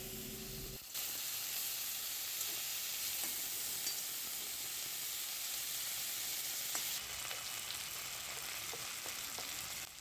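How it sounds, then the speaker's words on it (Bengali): Grated ginger frying in a pan while being stirred, a steady, fairly faint hissing sizzle that starts abruptly about a second in and continues evenly, with occasional light stirring knocks. "এবার নেড়ে নেওয়া হচ্ছে যাতে আদার কাঁচা গন্ধ চলে যায়"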